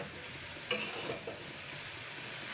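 Spinach greens seasoned with salt, sugar and turmeric are stirred in a dry, oil-free pan, making a soft, steady sizzle with a brief scrape partway through and no talking.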